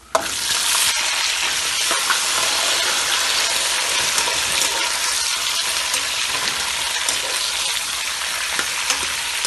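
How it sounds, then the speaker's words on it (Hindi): Potatoes hit hot oil with cumin in a pan, a loud, steady crackling sizzle that runs continuously from the first second with a few faint clicks of a utensil. "अब हम आलू डालेंगे।"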